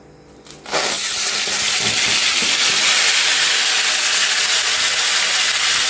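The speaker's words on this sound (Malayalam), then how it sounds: "നമ്മുടെ എണ്ണ നല്ലോണം ചൂടായിട്ടുണ്ട്. അപ്പൊ നമ്മൾ അതിനകത്തോട്ട് നമ്മുടെ പീസൊക്കെ ഒന്ന് നമുക്ക് ഇട്ട് കൊടുക്കാം." Chicken pieces dropped into hot oil for a Goan cafreal set off a sudden loud, sustained sizzle that swells within the first second and stays steady and close to the end, with no talking.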